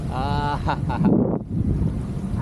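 Strong wind buffets the microphone while parasailing high over the sea off Boracay, a steady close rushing roar with a voice calling out briefly over it.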